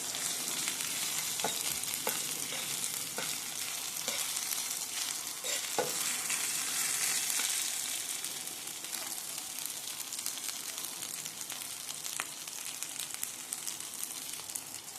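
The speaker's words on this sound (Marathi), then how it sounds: "अद्रक लसूण टाकलेला आहे आपण मस्त फ्राय करून घेऊ छान लाल होईपर्यंत भाजून घेऊ" Ginger and garlic sizzle and fry steadily in a pan while being stirred, a loud continuous crackle with scraping clicks throughout and no voices.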